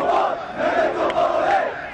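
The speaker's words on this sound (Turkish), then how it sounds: "Mehmet Topal ismi şimdi tezahürat şeklinde taraftarların söylediği isimlerden birisi." Fenerbahçe fans at Samandıra chant a player's name together, a loud sustained crowd chant rising and falling in waves.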